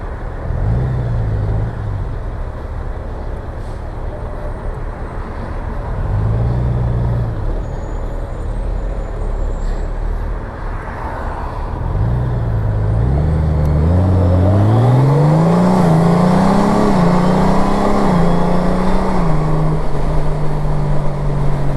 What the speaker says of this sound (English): This is ridiculous traffic